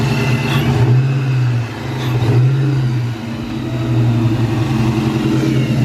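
A 1999 Mustang GT with a Vortech V3 SI supercharger and new BBK throttle body runs loud and close, its engine holding a steady idle note that lifts in a few short blips of revving.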